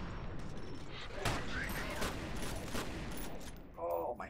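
An enemy nail gun firing in the video game F.E.A.R., a rapid clattering burst of shots over continuous gameplay noise, with a voice speaking over it.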